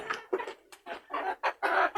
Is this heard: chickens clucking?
yes